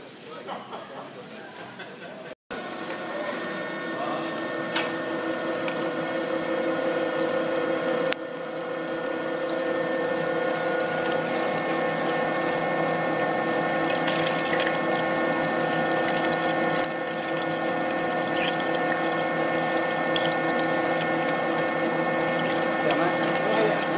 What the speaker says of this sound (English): this is a video of the GHD-45A drilling machine, drilling a 50mm hole through steel, mild steel